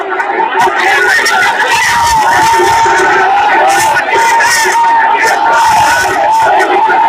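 Angry Sahara investors protest at a police barricade, a loud, dense roar of shouting voices and slogan-chanting that stays close and continuous throughout.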